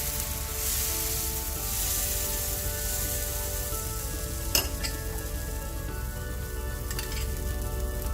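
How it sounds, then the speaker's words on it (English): Dosa batter sizzles steadily on a hot pan, a soft continuous hiss with a few sharp metallic clinks of a utensil partway through. "You should hear that sizzle."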